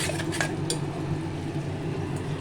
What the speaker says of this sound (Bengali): আর দেবো চারটে কাঁচা লঙ্কা এগুলো দিয়ে আবার কষিয়ে নেবো কিছুক্ষণ